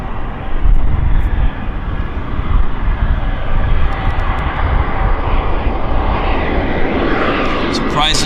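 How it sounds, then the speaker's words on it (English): A business jet at Vancouver airport roars steadily nearby, a loud continuous engine rumble with a broad hiss that holds for several seconds, with a person talking over it. "Another BizJet."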